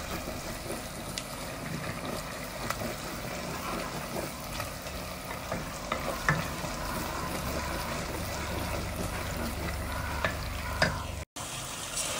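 Food fries in a pan while being stirred constantly, a continuous sizzling hiss with soft scraping and clatter running throughout at a close, moderate level.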